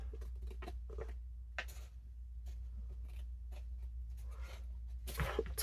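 Scissors snip off a paper flap from a handmade mini folio built from scraps, a few close, dry crisp cuts with faint rustling of paper between them and a louder final snip.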